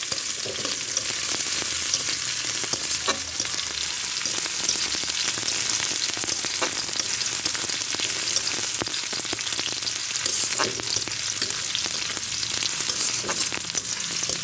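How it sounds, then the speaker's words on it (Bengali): Chopped onion and garlic frying in a pan, a dense continuous sizzle with scattered clicks of a spatula stirring, close and even from start to finish. "পেঁয়াজ কুচি রসুন কুচি ভেজে নিচ্ছি"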